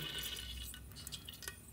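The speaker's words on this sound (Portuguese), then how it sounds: "aqui na panela de pressão, ó, vou colocar um pouco de azeite aqui" Olive oil poured into a pressure cooker makes a faint, soft liquid trickle with light drips near the end, quiet and close, with no voices.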